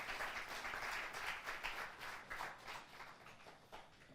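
Warm applause from a conference audience closing a session on mergers and acquisitions, steady clapping throughout, fairly faint and distant.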